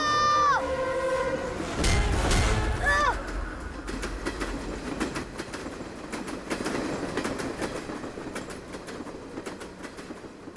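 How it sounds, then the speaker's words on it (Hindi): A train rushes past on railway tracks, a loud close surge of rumble and clatter with a brief wheel squeal, then a steady rolling clickety-clack as it continues; people shout over the noise. "ट्रेन आ रही है"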